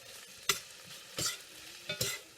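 Cauliflower cooking in butter in a pan, with a soft sizzle running underneath and a few sharp stirring scrapes and clatters, close up with no one talking.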